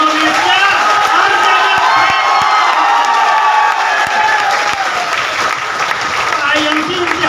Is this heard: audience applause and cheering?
yes